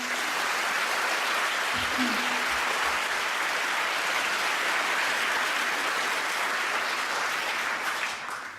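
An audience at a Duke of Edinburgh Award ceremony gives sustained applause for Silver Award winners, a thick, even wash of clapping that holds steady and tapers slightly at the very end.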